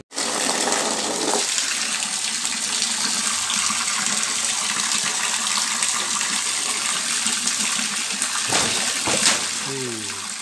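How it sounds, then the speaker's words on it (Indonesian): Water gushing steadily into a tarpaulin fish pond as it is refilled, a loud continuous rushing splash with a brief surge near the end. "kita lanjut isi airnya"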